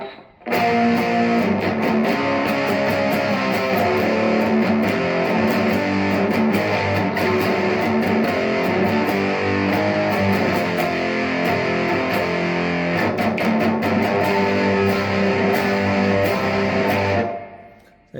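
An electric guitar roars through a Behringer HM300 distortion pedal built for black and death metal, playing a loud, continuous, heavily saturated rock passage for about seventeen seconds before cutting off abruptly.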